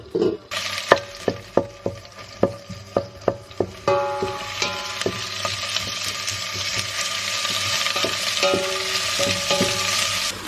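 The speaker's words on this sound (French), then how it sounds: "Je vais mettre un demi-oignon que j'ai découpé et je vais mettre 2 gousses d'ail" Half an onion and two garlic cloves going into Spanish virgin olive oil, a run of sharp spoon taps on the pan followed by a rising, steady close sizzle.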